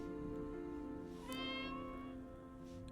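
A cat meows in the video game Copycat, a drawn-out tonal cry set over a steady bed of game music, with the meow rising and stretching in the middle before fading back under the music.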